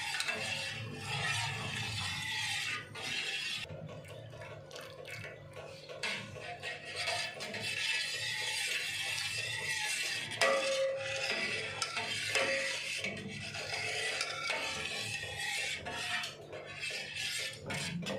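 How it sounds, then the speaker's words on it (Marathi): Milk stirred steadily in a pot while making basundi, giving a continuous soft scraping and rubbing of a spoon against the metal base, close and moderately loud, with no speech over it. "आता हे 5 ते 10 मिनिट आपल्याला त्याला हलवत राहायचं आहे"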